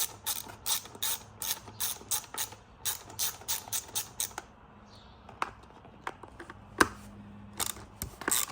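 A ratchet removing a T25 bolt from a Tesla Model Y/3 steering wheel, giving close, rapid clicking bursts in steady runs, then sparser single clicks and small knocks as the bolt comes free.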